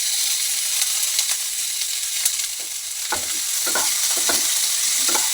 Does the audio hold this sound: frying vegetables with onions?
yes